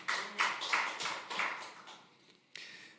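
Congregation applause during a church Christmas worship service, a few loud rhythmic claps at first that thin out and fade, then one last isolated clap, with no voices.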